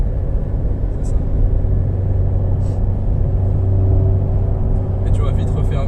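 Toyota GT86 TRD engine and exhaust drone at about 3000 rpm in sixth gear, a steady low booming resonance filling the closed cabin with the windows up, continuous under people talking.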